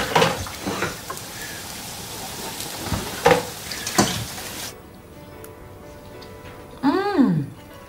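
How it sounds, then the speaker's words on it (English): Onions frying in a pan give a soft crackling sizzle with occasional louder pops, then cut away to a quieter room; a short whooping sweep sounds near the end. "Fry the onions."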